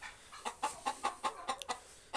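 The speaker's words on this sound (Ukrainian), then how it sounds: "Ось кури несуться." Chickens laying eggs cluck in a quick, steady series of short calls, close by and fairly quiet, with no talking.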